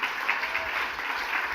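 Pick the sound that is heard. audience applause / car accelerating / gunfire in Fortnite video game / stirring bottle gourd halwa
audience applause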